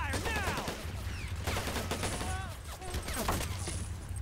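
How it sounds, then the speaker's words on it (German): Machine gun fire in the war strategy game Men of War: Assault Squad, rapid bursts of shots mixed with whistling projectiles and battlefield noise, continuous and fairly loud, with someone talking over it. "Scheiß MG kann er echt nicht."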